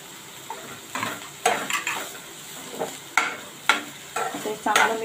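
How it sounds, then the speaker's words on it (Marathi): Sliced capsicum and cabbage are tossed in a pan over low heat for restaurant-style Chinese bhel. Spoon scrapes and clatters come in uneven bursts above a faint, steady sizzle, close by and moderately loud. "आता चांगलं मिक्स करून घेऊया आधी."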